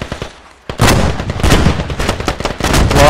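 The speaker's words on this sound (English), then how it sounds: "Rockets. Incoming rockets." Incoming rockets and heavy gunfire in the military shooter Squad: after a brief quieter lead-in, loud close bursts of automatic fire and sharp blasts hammer almost continuously.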